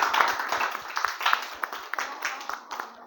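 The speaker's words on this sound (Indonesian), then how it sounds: "Boleh berikan aplaus." A small classroom audience claps after a group presentation during teacher-training practice, with brisk, rhythmic hand claps close by that fade over a few seconds.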